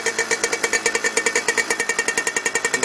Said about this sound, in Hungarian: És itt cöccög a kipufogó.